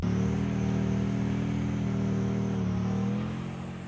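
The engine of a military self-propelled gun vehicle moving into a firing position drones steadily with a low, even rumble, then eases off slightly toward the end, heard alone without voices.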